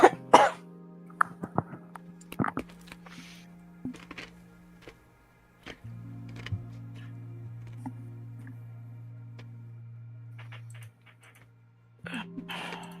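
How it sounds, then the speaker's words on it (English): A few sharp coughs and throat clearing near the start, then a long steady hum with scattered clicks, and another brief cough burst near the end. "Coughing"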